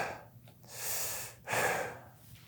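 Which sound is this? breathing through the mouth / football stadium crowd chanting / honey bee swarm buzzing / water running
breathing through the mouth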